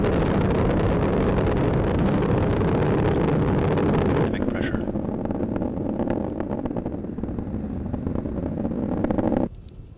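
SpaceX Falcon 9 rocket engines roar during ascent as a loud, steady broadband rumble that drops in level partway through and cuts off near the end, with launch commentary spoken over it.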